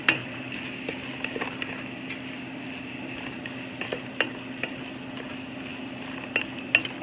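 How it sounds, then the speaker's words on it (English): Spices and a bay leaf being stirred in a pot of simmering lasagna soup: a low, steady sizzle-and-simmer hiss with a few soft, scattered clinks and scrapes of the spoon, no talk. "Now stir this around so the spices can get the heat"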